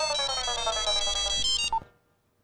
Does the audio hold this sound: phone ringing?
yes